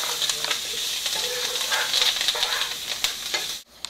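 A pan of spicy potato sabzi with fresh cilantro, stirred off the heat: a steady close sizzle is broken by scraping and clicking strokes, then cuts off abruptly near the end.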